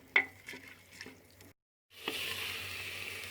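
Onions frying in a pan until light golden, a soft steady sizzle with a few stirring clicks and scrapes, briefly cut off before the sizzle resumes slightly louder.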